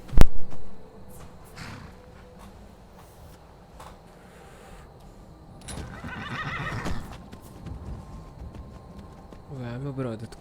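A horse in the Skyrim video game whinnies in a rising, wavering call near the end, after stretches of hoof clatter and game noise, with someone talking over parts of it.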